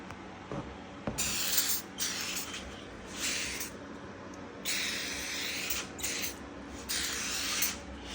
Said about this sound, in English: This 3M general purpose adhesive cleaner.